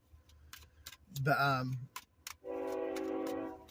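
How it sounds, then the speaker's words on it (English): A passing train sounds a long, steady horn-like whistle that holds for over a second at the end, following a voice and some ticking clicks. "this train whistle here"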